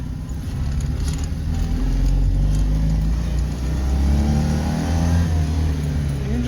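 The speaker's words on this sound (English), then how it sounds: "The engine seems a little low in power." A small, recently repaired French car's engine runs and revs while driving, a continuous low rumbling drone that swells and eases with throttle, close and fairly loud, with no voices.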